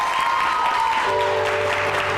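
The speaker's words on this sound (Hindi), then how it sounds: "सबीन के लिए बहुत सारी तालियां हो पहले तो।" Studio audience applause on a television show set, steady clapping filling the whole short stretch at a loud, even level with no speech over it.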